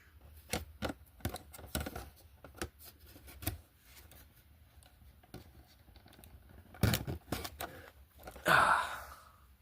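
Scissors cut through hard plastic toy packaging for a 2009 Transformers Revenge of the Fallen Voyager Class Mixmaster figure, making scattered sharp snips and cracks with pauses between them, fairly quiet, plus a louder rustle near the end.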